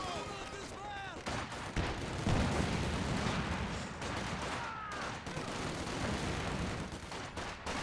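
Machine gun fire and bursts of gunshots in a Company of Heroes battle, with volleys and explosions overlapping in dense, loud, continuous combat noise, chatter-like tones threaded through.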